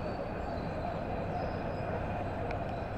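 A train rolls past close by near a station, a dense steady rumble of wheels and cars filling the whole stretch, with a faint high squeal toward the end and no voices.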